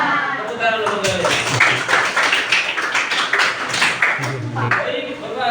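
Students in a classroom clap their hands in a quick run of close, sharp claps, with voices and chatter mixed in throughout.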